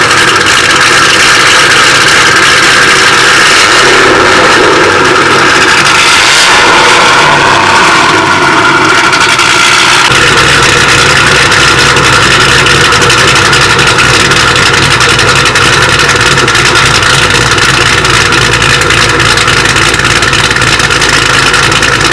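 A loud Ford Mustang 4.6 V8 with long tube headers, catless X-pipe and SLP Loudmouth mufflers rumbles close by with a deep, throaty exhaust, its pitch rising and falling before it settles into a steady idle.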